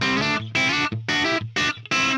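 Distorted electric guitar played through a Tonex Black Angus tone model with no reverb or delay, loud sustained chords in five strummed bursts separated by short gaps, dry and close.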